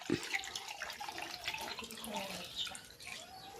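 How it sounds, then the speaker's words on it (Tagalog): Coconut milk is poured into a pot over layered taro, a continuous close splashing and trickling of liquid that runs throughout. "Ibubuhos ko na dito itong gata."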